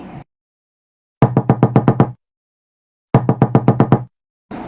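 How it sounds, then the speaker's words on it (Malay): Two bursts of rapid knocking on a kitchen door, each about seven sharp raps, separated by silence; loud and close. "Itu bunyi ketukan pintu dapur rumah sewa tersebut."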